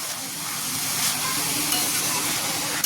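Pumpkin leaves cooking with dal are stirred in a pan once the lid comes off, a soft hissing sizzle with scraping strokes and a few small knocks, no speech.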